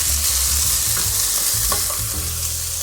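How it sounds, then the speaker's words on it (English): Peppers sizzle and crackle in olive oil in a hot pan with a bright, steady hiss, punctuated by a few soft scrapes of stirring. "we're going to saute these until they are tender"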